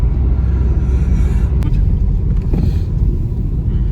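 A car drives along a quiet rural road near water on a mild winter day, heard as a loud, steady engine and road rumble from inside the vehicle with some wind buffeting.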